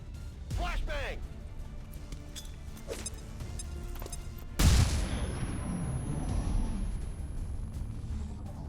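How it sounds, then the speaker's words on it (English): A flashbang grenade detonating in XCOM 2 Long War of the Chosen: one sharp, loud burst followed by a lingering rumbling wash, over steady game background noise, with a voice speaking earlier. "Flashbang!"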